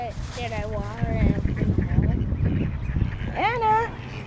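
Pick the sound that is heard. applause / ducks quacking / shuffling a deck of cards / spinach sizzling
ducks quacking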